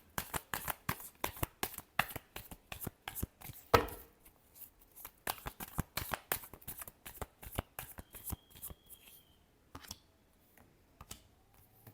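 Tarot cards are shuffled by hand in quick, rhythmic riffling bursts with soft slaps and pauses, close and fairly quiet, with no talking.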